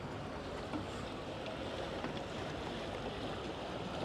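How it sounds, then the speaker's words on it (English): A boat comes into Weymouth harbour on the Dorset seafront, a steady low rumble blended with lapping water and breeze, with no one talking. "The boat's coming in."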